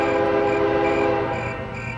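A loud, steady train rumble in the video game GTA, with a blaring horn tone held throughout, close by and continuous.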